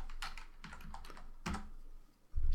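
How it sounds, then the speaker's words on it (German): A server IP address is typed on a computer keyboard in quick, uneven bursts of close, crisp clicks, ending with a heavier key press followed by a short pause. "Hier tippe ich die IP des Servers ein."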